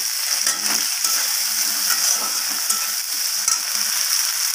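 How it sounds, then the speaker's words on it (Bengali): Papaya and ginger paste frying in a pan, a bright continuous sizzle with occasional scrapes and taps of the stirring utensil, close by and fairly loud, with no talking. "আদা বাটাটা দিয়ে পেঁপের সাথে আমি ভালোভাবে আদার কাঁচা গন্ধটা না যাওয়া পর্যন্ত একটু নাড়িয়ে চাড়িয়ে নেব"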